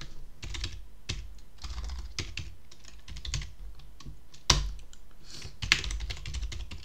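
Typing on a computer keyboard, a close run of crisp key clicks in uneven bursts with short pauses, and a couple of sharper heavier keystrokes standing out.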